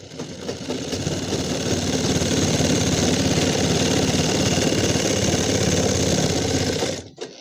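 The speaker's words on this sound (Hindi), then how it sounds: "अब हमें थाई के बीच में यानी कि इतने बीच में डबल सिलाई लगाना है।" An electric sewing machine runs double stitching along the thigh seam of a pair of pants, humming and rattling at a fast, even rhythm for about seven seconds before stopping abruptly.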